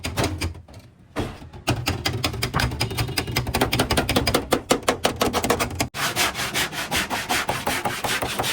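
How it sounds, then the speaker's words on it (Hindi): Sandpaper is worked over body filler on a Honda Civic CF panel during a restoration, making rapid rhythmic back-and-forth rasping strokes that are loud and close. The sanding runs almost continuously, with one short pause near the start. "सैंडिंग इस टाइम शुरू की हुई है, सैंड हो रहा है इस टाइम, जहाँ पे फिलिंग चिलिंग की हुई है"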